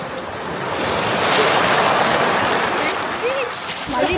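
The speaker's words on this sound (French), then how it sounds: "On entend rien avec le bruit des vagues." Ocean waves break on a beach in a steady, loud wash of surf with wind noise on the microphone, and voices are faintly audible beneath the roar.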